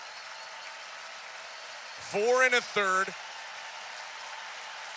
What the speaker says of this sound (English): And the crowd now in appreciation of Max Scherzer.